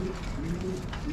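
A white Lakka pigeon coos steadily on a rooftop pigeon farm: a low, continuous purring coo that runs through the whole short moment, close by and moderately loud.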